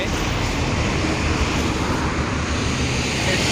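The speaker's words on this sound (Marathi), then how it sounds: "मला वाटतं टेक ऑफ विमान आता रनिंगमध्ये आहे" An airplane taking off on the runway at Navi Mumbai International Airport at night, heard as a steady, loud, wide roar of engine noise from a distance, with no one talking.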